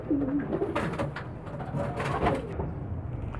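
Pigeons cooing close by, layered low throaty coos from several birds over a dense rustling background, continuous across the short stretch with no talk.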